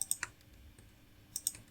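A computer keyboard is typed on in short clustered bursts, a few crisp close keystrokes at the start and again near the end with quiet gaps between.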